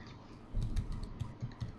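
Computer keyboard typing at close range, a burst of irregular clicky keystrokes that starts partway in and continues steadily with no talking.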